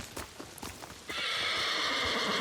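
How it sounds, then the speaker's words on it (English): A horse in Ghost of Tsushima whinnies loudly and sustains its neigh after a second of scattered soft clip-clop and rustling, close and clear. "Oh, it's just a horse."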